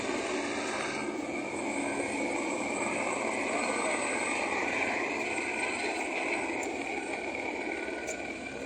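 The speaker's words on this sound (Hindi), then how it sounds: "ये हेलीकॉप्टर यात्रियों को लेकर आते हुए।" A helicopter bringing pilgrims in toward the Kedarnath helipad, a steady distant rotor drone that holds at an even level throughout.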